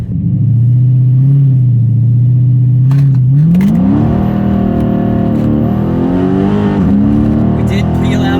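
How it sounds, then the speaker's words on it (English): A car peels out and accelerates hard, a loud close engine idling low and then rising into a climbing rev through the gears, with tire noise and a voice speaking over it. "We did peel out a little bit."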